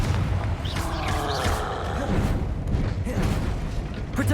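A Confringo fire spell blasts repeatedly during a troll fight in the video game Hogwarts Legacy, a dense run of booming, crackling explosive bursts that stay loud throughout, with a voice calling out over them.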